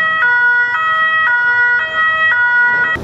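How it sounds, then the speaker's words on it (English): An ambulance siren wails in a steady two-tone pattern, switching pitch about every half second, loud and close throughout with nothing else audible. "An ambulance siren is always the first indication of a disaster, especially a road accident or a fire outbreak."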